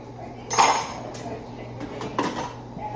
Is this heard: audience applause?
no